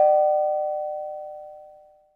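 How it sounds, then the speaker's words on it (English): A doorbell at a grandmother's house on Thanksgiving morning gives one clear ring that lingers as a pure ringing tone and fades out slowly over about two seconds, heard alone. "and then the doorbell rings."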